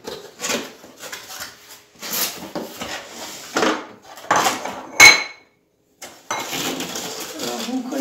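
A fragile dish set is handled, giving soft rubbing and scraping with one sharp ceramic clink, close up and interspersed with someone talking.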